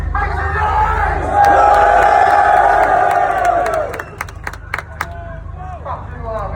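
A large crowd at an airsoft festival roars and cheers in a loud, sustained swell, then breaks into scattered shouts, whoops and claps as it dies down.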